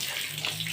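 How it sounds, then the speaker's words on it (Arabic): Water gushing steadily while a carpet is rinsed during a holiday cleaning routine, a close, continuous splashing flow like a running tap. "هنشطف كده ونسحب الميه الوسخه"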